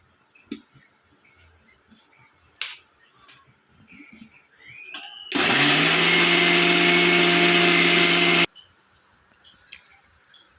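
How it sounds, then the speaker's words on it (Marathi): A mixer grinder blends soaked rice with water for steamed rice papad batter. A loud, steady motor whine runs for about three seconds, then stops abruptly, with faint background sounds before and after. "आता आपण हे मिक्सरला पूर्ण बारीक वाटून घ्यायचं आहे."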